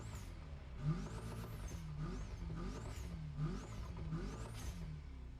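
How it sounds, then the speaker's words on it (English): Interior engine sound of a Honda Civic Type R in The Crew Motorfest racing game: a steady mid-pitched drone with repeated rising revs and gear shifts, each climb swooping up then dropping, heard continuously without talk. "listen to this car in the interior."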